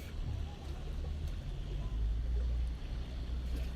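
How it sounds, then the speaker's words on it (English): Deep, steady engine rumble of boat motors revving close by, swelling louder in the middle, with water and wind noise around it. "you can really hear the motors revving up now."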